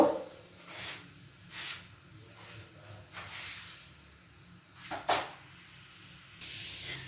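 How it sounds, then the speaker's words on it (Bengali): A cauliflower paratha fries on a tawa, producing gentle intermittent hissing bursts of steam and sizzle over a quiet background, close but faint, with a few soft handling knocks. "আরও একটা ফুলকপির পরোটা কিন্তু তাওয়াতে দিয়ে দিলাম"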